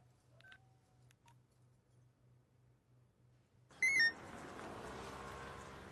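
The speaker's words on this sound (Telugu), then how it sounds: "శివ ఫోన్ చేస్తున్నాడు" A telephone number is dialed in a Telugu comedy film scene from Naa Peru Shiva: a short run of faint keypad tones, then a sudden louder beep and a steady hissing line tone, with no talk.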